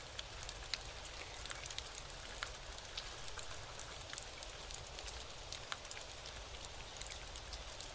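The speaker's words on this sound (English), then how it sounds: "as it starts to rain again" Rain in the video game Camping Manager 2012, a steady even hiss of falling drops with scattered small ticks of drops striking surfaces, faint and continuous with no voices.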